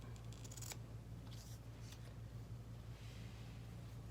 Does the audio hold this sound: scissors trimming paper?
yes